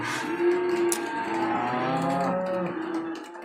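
Cattle in a cow lot beside a feed barn low in a long, loud, drawn-out moo close by, and a fainter second call follows at the end, with no people talking.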